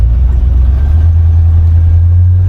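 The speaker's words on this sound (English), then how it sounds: "Go ahead and get in the throttle just a little bit, warm her up" A 1969 Buick Skylark engine idles with a loud, steady low rumble close by, holding even throughout with no clear revs and no voices.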